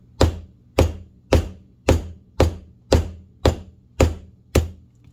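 A hammer strikes a SOG folding knife nine times in a steady, evenly spaced rhythm, each blow a sharp, loud close impact with a brief ringing decay, with no talking.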